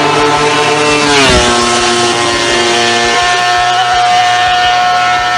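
A Honda RC166 racing motorcycle engine screams loud and close, a buzzing, harmonic-rich howl that drops in pitch briefly before revving and holding steady again.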